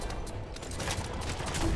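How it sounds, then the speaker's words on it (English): Rapid gunfire from the player's guns in the video game Biomutant, a dense continuous volley of shots close up and steady in level, with no talk over it. "That's why we use guns."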